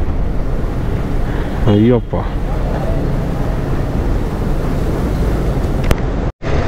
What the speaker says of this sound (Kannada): ಗಾಡಿ ಬಿದ್ದೋಗ್ಬಿಡುತ್ತೆ, ಅಷ್ಟೊಂದು ಗಾಳಿ ಹೊಡಿತದೆ.